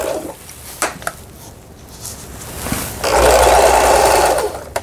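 A Lion LR1600 sewing machine stitches straight seams, its needle running in a loud, steady mechanical whir near the end after some clicks and handling noises.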